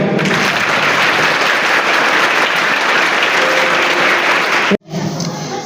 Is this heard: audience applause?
yes